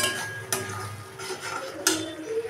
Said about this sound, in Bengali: মশলাটাকে কষে যাক একটু।